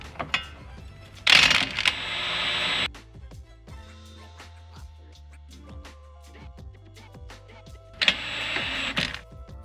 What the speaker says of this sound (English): Now we need to remove the bolts.